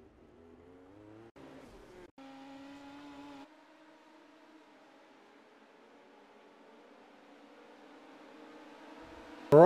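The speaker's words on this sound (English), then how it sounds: "Just look at the gaggle of cars coming through." Midget race cars on the dirt oval at Volusia snarl past in a pack, engine tones rising and shifting as they come through, moderately loud and ending with a sharp burst.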